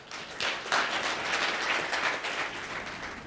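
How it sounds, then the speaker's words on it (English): An audience applauds a guest speaker in a hall, steady moderate clapping from many hands lasting a few seconds, heard fairly quietly and without speech. "Can you please give him a big round of applause?"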